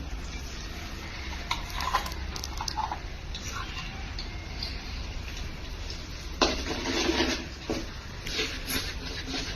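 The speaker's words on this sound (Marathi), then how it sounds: "मस्त मसाला परतून घेणार आहे मी." A masala paste of onion, coconut, garlic and coriander is sautéed in a pan for a bombil (Bombay duck) curry, with repeated close, scraping stirring strokes over a low, steady background.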